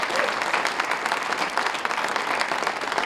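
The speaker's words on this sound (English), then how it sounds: "You folks, give yourself an applause." A studio audience applauds steadily and loudly, a dense, even clatter of many hands clapping with no voices over it.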